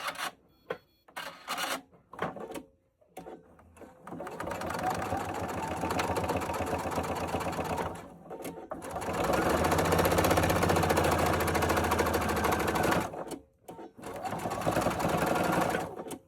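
A sewing machine stitches a hanging towel in several bursts, rapid mechanical whirring runs that start and stop with short pauses and small clicks between them, close and clear.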